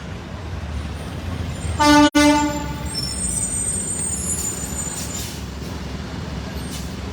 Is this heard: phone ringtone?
no